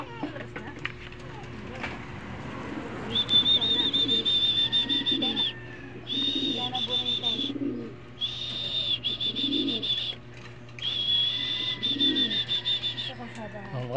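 Pigeons and their young coo in repeated soft bursts near a coop, with chirps between and people talking over much of it.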